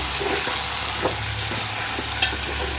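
Taro root (colocasia) pieces frying in a pan, a steady broadband sizzle with soft stirring scrapes and a couple of light clinks, close and continuous with no talk.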